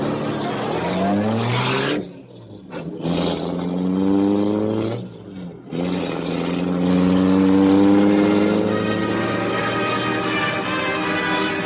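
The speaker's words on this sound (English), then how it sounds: "The great car roared into life." Black Beauty, the Green Hornet's car, roars into life as a radio drama sound effect: a loud, continuous engine roar that dips briefly twice early on, then surges into a steady, rising rev.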